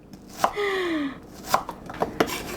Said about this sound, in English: So I'm gonna start by cutting the onion.